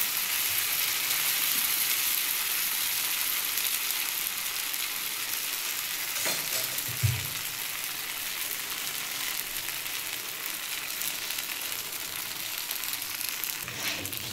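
Poha paratha, a soft flattened-rice flatbread, frying in a pan with a faint, steady sizzle throughout and a single soft knock near the middle, no voices.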